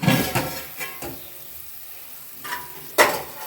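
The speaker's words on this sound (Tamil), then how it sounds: "நல்லா இந்த மாதிரி கொதிச்சு வருதுங்களா" Prawn biryani with seeraga samba rice bubbling and sizzling in a covered pot, with a few sharp metallic clanks of a lid or utensil scattered through.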